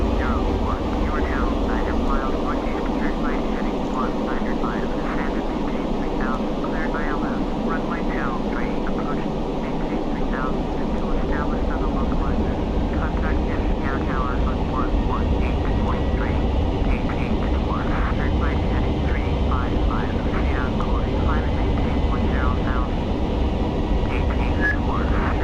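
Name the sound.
airliner engines after throttling back, Microsoft Flight Simulator X video game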